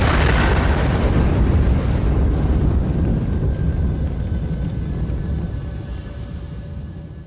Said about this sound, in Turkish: Tüp büyük bir gürültüyle patlar.